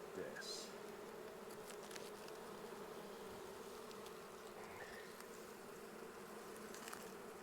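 Honey bees fanning their wings hard at the hive make a close, continuous buzzing hum, faint overall and steady, with occasional brief higher buzzes as individual bees pass nearby.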